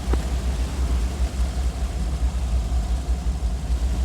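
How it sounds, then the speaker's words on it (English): Boat engines run in the Arma 3 military sim, a steady loud low rumble with constant drone throughout, no talk in the moment. "Engines are loud."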